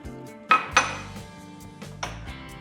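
Eggs go into a blender jar while a low-carb churros cake batter is made, giving two sharp clinks of shell against glass early on and a lighter knock later. Faint kitchen clatter fills the gaps, and no one speaks.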